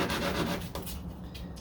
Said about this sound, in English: on the corner, you kind of have to just use this type of sandpaper so you get that desired shape